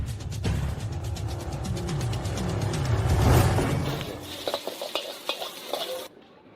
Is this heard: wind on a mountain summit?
no